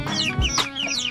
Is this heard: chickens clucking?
yes